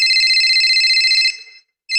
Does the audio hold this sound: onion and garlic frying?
no